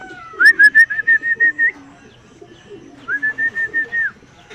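Pigeons cooing in a loft during club training, two loud rhythmic bursts of throaty pulsing coos, each with a whistled tone running over it, separated by a short pause, close and clear with no talk.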